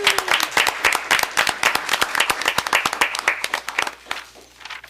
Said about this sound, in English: please stand up and let us applaud you